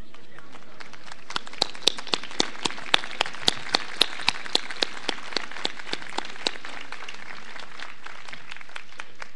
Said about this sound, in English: And I congratulate and applaud you.